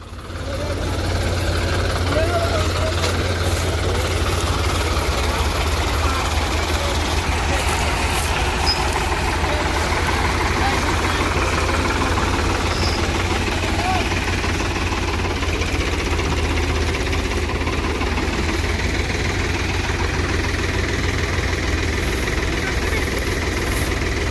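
A tractor stuck in wet, muddy ground idles with a low, steady diesel rumble and faint knocking throughout, with occasional voices in the background.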